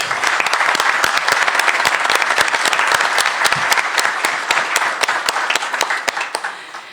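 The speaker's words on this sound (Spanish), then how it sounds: "les pido para esta gran personalidad que tenemos en estos momentos un fuerte y caluroso aplauso" Crowd applause at a legal lecture on the investigation file and its constitutionality, a loud, sustained burst of many hands clapping with sharp individual claps, tapering off near the end.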